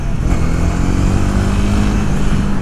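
A Honda CB250R motorcycle pulling hard from low revs in fifth gear on the road, its single-cylinder exhaust thrumming loud and close, rising steadily under heavy wind rush.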